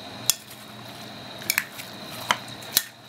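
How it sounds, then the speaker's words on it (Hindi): Fruit chaat being mixed in a bowl with a spoon: a few light, sparse clinks of the spoon against the bowl over a quiet, soft background of stirring, with no talking. "ये इस तरह अच्छी तरह मिक्स कर लिया हमने।"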